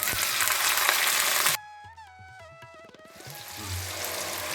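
Chopped tomato and ginger frying with spices in a pan for a vegetarian banana flower dish, a loud, close, steady sizzle that breaks off into music and then returns softer.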